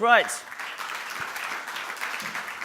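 Moderate audience applause follows a startup pitch at a prize competition, an even patter of clapping that rises right after a short spoken word and carries on steadily to the end.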